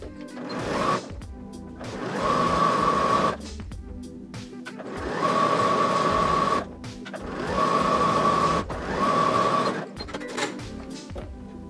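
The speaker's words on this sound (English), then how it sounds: "So just sewing both side seams here with a centimeter seam allowance for now." A domestic sewing machine runs in long steady bursts while stitching the side seams of a viscose challis skirt, three or four sustained whirring passes broken by short pauses, close and fairly loud with no talk.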